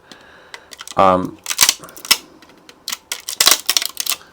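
Snipping and cracking as support material is cut off a 3D print, a quick series of sharp clicks and snaps up close, with a brief low buzz among them.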